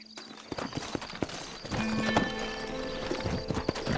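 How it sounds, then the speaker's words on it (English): Rhythmic clip-clop of horse hooves on hard ground in the video game Red Dead Redemption, with a horse whinnying partway through and game ambient sounds. "Horses are over here!"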